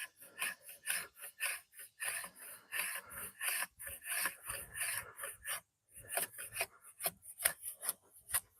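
Close, brisk strokes of a rasp working a wooden longbow limb, repeated scraping bursts in an uneven rhythm with a short pause midway.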